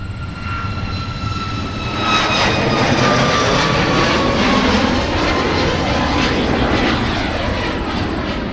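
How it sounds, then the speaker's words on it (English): A United airliner takes off from runway 30 left at Minneapolis–Saint Paul, its jet engines roaring loud and steady as the thrust builds, with a high whine laced through the rumble and no voices over it. "Clear for takeoff."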